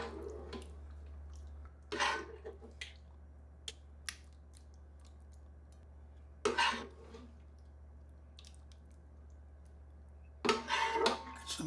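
Thick chili sliding and plopping into a pan for a cornbread chili pie, heard as several separate wet bursts of scraping and splatting over a low steady hum, with quiet gaps between them.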